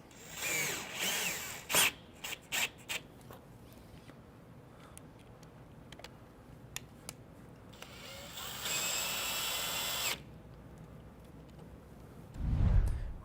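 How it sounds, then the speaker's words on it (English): A power drill drives washer head screws into the bow of a Bestop Trektop soft top on a Jeep, with short whirring bursts followed by a longer sustained run, close and fairly clear, with no talking. "Use 2 of the washer head screws in the small parts kit to fasten the stay pad to the 3 bow."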